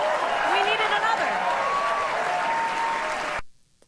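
Studio audience applause after a joke on a news broadcast, a full steady wash of clapping that cuts off abruptly near the end.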